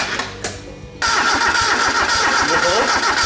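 A turbocharged 4K engine in a Toyota Corolla KE70 cranks briefly, then catches and settles into a loud, steady, rough idle heard up close.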